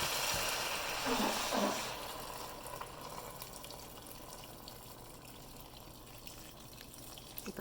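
Hot water pours from a tea kettle into a soup pot of vegetables, a steady close splashing stream that is loudest at first and then settles into a softer, continuous trickle.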